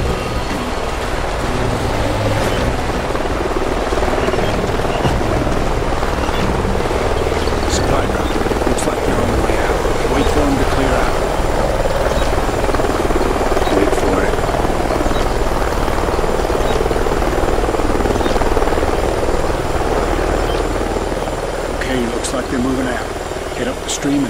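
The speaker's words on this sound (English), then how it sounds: "Sounds like a chopper's up ahead of us." Helicopter from Call of Duty: Ghosts flying ahead over a canyon, a steady loud rotor and engine drone running continuously throughout, with game dialogue and talk over it.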